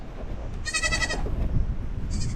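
Baby goats bleat outdoors at a farm, two bursts of wavering, quavering cries, the first longer and the second starting near the end, over a steady background of ambient noise.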